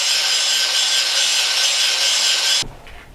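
Angle grinder with a cut-off wheel grinding scrap steel for a homemade Viking sword, a loud steady high-pitched whine for about two and a half seconds that cuts off abruptly, leaving a low rumble.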